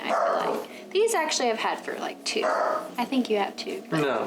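A pet dog yaps in a small bursts of barking and whimpering yips, close by inside a home, heard under a couple chatting casually over it.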